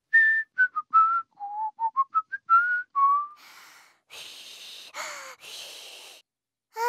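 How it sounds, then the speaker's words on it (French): A cartoon character whistles a short tune of quick, separate notes, close and clear, then breaks off into breathy blowing and puffs of air. "Ensuite, tu peux siffler un air."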